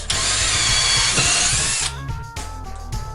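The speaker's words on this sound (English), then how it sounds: "I've had no problems with this drill. It's superb." Power drill boring into a home wall during renovation, a loud continuous high whine for nearly two seconds that stops abruptly, followed by a few quieter clicks and short bursts.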